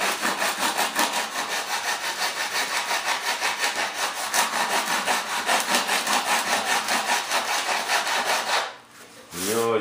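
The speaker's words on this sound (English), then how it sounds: "I think this is probably 50 grit, not 36. It's pretty coarse though." Wood on a turbine jet model aircraft build sanded with coarse 50 grit sandpaper: loud, close, rhythmic back-and-forth rasping strokes for about nine seconds, then a brief pause as a voice starts talking.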